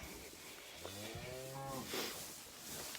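A Simmental cross calf moos in a barn pen, giving a drawn-out, fairly close bawl with a slightly wavering pitch over a quiet barn background, and no one speaks.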